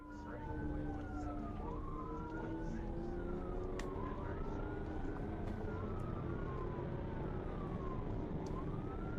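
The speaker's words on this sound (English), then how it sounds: "The troopers activated emergency lights and sirens in an attempt to stop the vehicle" Police car sirens wail continuously during a highway pursuit, several overlapping rising and falling tones heard from a distance, steady and moderately faint over road noise.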